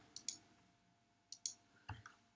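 Computer mouse clicks while working in the Scratch editor, paired double clicks heard twice and then one softer single click, crisp and close in a quiet room.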